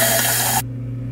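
Hot water streams steadily into a reusable to-go cup with a loud, close hiss, then cuts off abruptly partway through, leaving a low hum behind.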